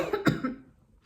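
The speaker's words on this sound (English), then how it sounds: "there's that smell that's causing me to cough a little bit" A woman coughs indoors, set off by a lingering smell from work done in the room: one short sharp cough followed by a second softer one, close and fairly quiet, then silence.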